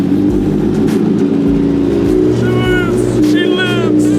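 A motorcycle with a loud SC Project exhaust rumbles at idle after starting, a deep steady engine drone close by with slight revs, while a person talks over it.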